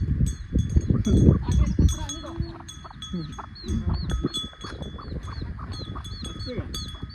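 Goats bleat in a noisy farmyard, with tinkling bells ringing repeatedly and people talking and moving about nearby.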